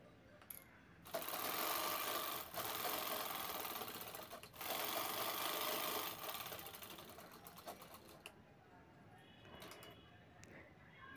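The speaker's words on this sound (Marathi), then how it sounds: "सेंटरपासून दोन्ही साईड शिवून घ्यायच्या आहेत पट्टीच्या." A domestic sewing machine runs in steady bursts stitching a tote bag strap, a whirring motor with short pauses between runs and a quick stop near the end.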